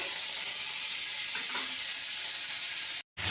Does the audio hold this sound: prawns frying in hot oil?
yes